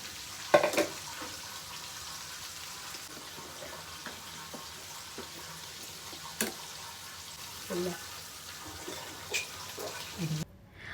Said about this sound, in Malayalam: കുറച്ചൊരു ലെവലിലാണ് നമ്മൾ പൊരിച്ചെടുക്കുന്നത്